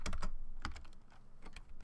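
Rapid clattering of keys on a computer keyboard, close and fairly quiet, in uneven bursts of fast typing with brief pauses.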